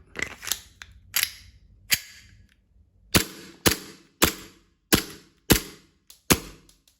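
Glock 19 BB pistol firing a six-round magazine: sharp, loud cracking shots, a few quick ones at first, then six evenly spaced reports at close range with no talking.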